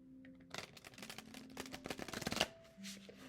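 Tarot cards being shuffled in quick riffling bursts, close and fairly quiet, with a low steady hum underneath.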